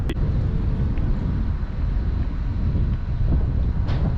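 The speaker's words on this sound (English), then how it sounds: "this is windy right now." Steady, heavy wind buffeting the microphone on the water while kayak fishing off Newport Beach, a dense low roar with no pauses and no voices.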